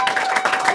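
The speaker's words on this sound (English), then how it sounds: "A round of applause for all of the late night YouTube series popping onto" Studio audience applause at a late-night show taping, a steady dense patter of many hands clapping at moderate loudness without pause.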